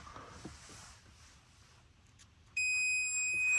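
A multimeter set to continuity, its probe touched to ground on a 1964 Ford Galaxie, gives a sudden steady high electronic beep that holds for the final second after quiet shop noise.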